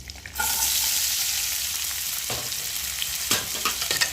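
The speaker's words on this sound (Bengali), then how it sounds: "তেলটা গরম হয়ে গেছে, দেবো একটু হিং ফোড়ন আর দেবো পেঁয়াজ কুচি" Asafoetida and chopped onion sizzle loudly in hot oil, a steady bright frying hiss starting just after a short quieter moment, with a few stirring scrapes near the end.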